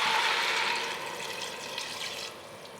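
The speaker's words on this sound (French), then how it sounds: "je rajoute mon litre d'eau" A litre of water poured into a soup pot of sautéed vegetables for fennel velouté, a steady rushing splash that is loudest at the start and eases off over nearly three seconds, with no talking.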